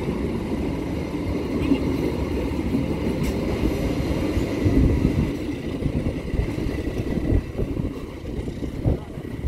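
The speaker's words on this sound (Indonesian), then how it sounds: "Kereta api Kota Jaya Selatan saat ini sudah melintas di sini." Passenger train of the Kota Jaya Selatan service, hauled by two locomotives in double traction, rumbling past at close range with a steady, loud low roar and faint wheel clatter throughout.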